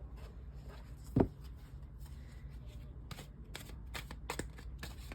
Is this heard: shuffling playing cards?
yes